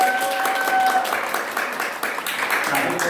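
Children clapping during an elementary Sunday church worship service, a steady, fairly loud round of applause mixed with voices and a faint tone.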